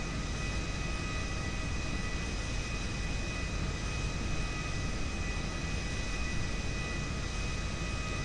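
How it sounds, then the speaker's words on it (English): Aircraft engine in Grand Theft Auto V, a steady, loud broadband roar that holds unbroken for the whole stretch with no talking over it. "Aircraft will be leaving in 30 seconds."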